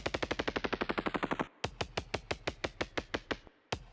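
A drum beat processed by the Beat Repeat effect in Ableton Live 12.2: rapid stuttering repeated hits at first, then a brief gap and a slower, choppy run of percussive repeats, each with a sharp click.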